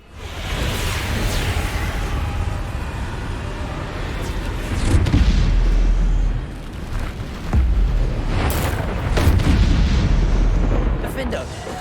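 Bombarda blasting spell in Hogwarts Legacy combat, deep booming explosions with low rumbling bursts around the middle and again later, over a constant battle soundscape with whooshing spell casts.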